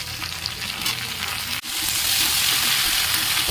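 Mixed vegetables sizzle steadily in a hot pan for a home-cooked sabji, a dense close frying hiss with stirring scrapes, briefly dipping mid-way before returning louder.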